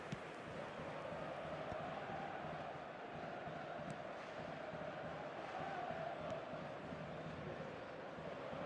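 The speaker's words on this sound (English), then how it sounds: "The crowd reaction tells you just how close that was" Stadium crowd noise from the eFootball video game, a steady loud roar of many voices that holds a sustained murmur throughout, rising slightly toward the end, with no clear single shout or talk on top.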